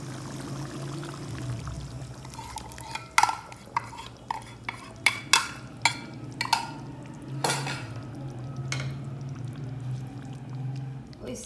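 Mixed masala spices being added to chicken karahi in a pot, with a series of sharp spoon taps and scraping against the vessel over a low cooking hum.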